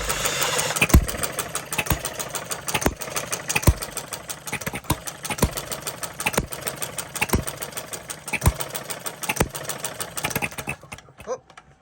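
A small engine runs steadily after starting, with rapid repetitive firing pulses and a rough, rattling idle at close range, cutting off near the end; someone speaks intermittently over it.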